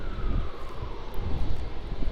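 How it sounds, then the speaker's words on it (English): A Virgin Australia Boeing 737-800 taxis toward Terminal 3 at Melbourne Airport, a steady low jet-engine rumble holding at moderate distance throughout, with some wind noise over the microphone. "over there we just have the Virgin Australia 737 800 taxiing over to Terminal 3"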